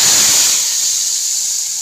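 Cumin seeds and red chilies in hot oil are poured into kadhi for tempering, letting out a loud, close burst of sizzling hiss that starts strong and gradually fades.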